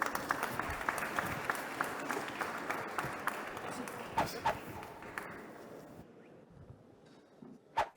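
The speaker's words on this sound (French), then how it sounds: "Merci à tous, on peut les applaudir." Audience applause fills a conference hall at an event on socially responsible businesses, dense steady clapping for about six seconds before thinning out into a few scattered claps and small noises.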